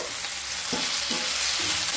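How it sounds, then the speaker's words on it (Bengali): Potato and onion frying in a pan, a soft continuous sizzle punctuated by a few scraping stirs of a spatula, fairly quiet and close, with no voices. "আলু আর পেঁয়াজ যখন খুব ভালোভাবে ভাজা ভাজা হয়ে যাবে"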